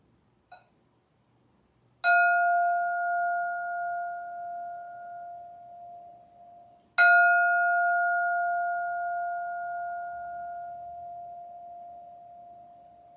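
A meditation bell rings twice, each strike loud and clear with a long, slowly fading tone, the second strike coming about five seconds after the first, set against near silence.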